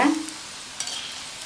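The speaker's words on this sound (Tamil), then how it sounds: "பக்கோடாவை கிள்ளி போட்டதுக்கப்புறமா ஸ்டவ்வை மீடியம் ஃப்ளேமில் வச்சுட்டு கொஞ்சம் நேரம் கழித்து பரட்டி விடணும்" Rava pakoda frying in hot oil on a stove set to medium flame, stirred with a brief scraping swirl at the start and another soft stir later over a steady low sizzle.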